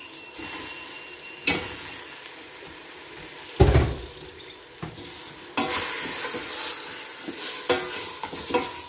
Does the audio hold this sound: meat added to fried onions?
yes